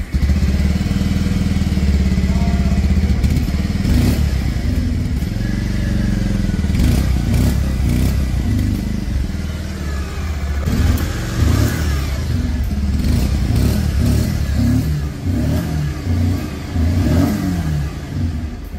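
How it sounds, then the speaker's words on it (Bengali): A 2025 Bajaj Pulsar 150 motorcycle revs loud and close, its exhaust note rising and falling in repeated throttle blips over a continuous idle, with no talking. "চলুন এর এক্সস্ট নোটকে একবার শুনে নেওয়া য"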